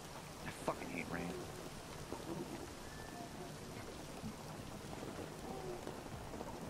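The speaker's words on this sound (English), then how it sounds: "I fucking hate rain." Rain falls steadily in Dying Light 2 as a soft, continuous hiss. A distant rumble and a few faint game sounds sit underneath, and the whole scene is quiet.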